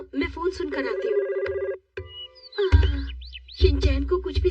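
A telephone rings in repeated bursts of electronic chiming, loud and close, broken by short pauses, with voices speaking in between.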